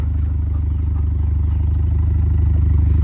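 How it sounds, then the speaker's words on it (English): A 6th-generation Camaro 2.0 turbo engine with a muffler delete rumbles deep and loud, revving steadily with a throaty, pulsing exhaust note and no voices. "give you guys a few revs. That way you know what it sounds like."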